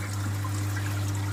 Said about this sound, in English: I have here circulation for water.